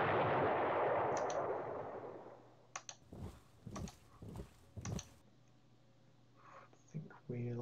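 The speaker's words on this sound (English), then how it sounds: "so you should start the airstrikes" Airstrikes and artillery fire in a World War II invasion video game, Operation Sea Lion: a fading rush of noise followed by several distant thudding blasts in a loose series, with faint game sounds between.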